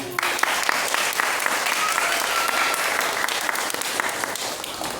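Dense applause from an audience at a Catholic talk on devotion to the Virgin Mary, a steady, fairly loud wash of many hands that carries on without a break for the whole stretch.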